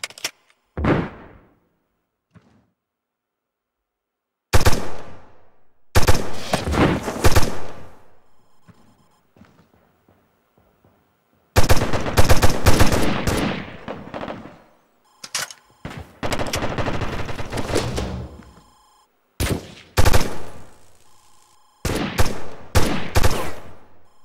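Gunfire in the military shooter game America's Army, with loud close bursts of automatic fire and single shots separated by stretches of silence.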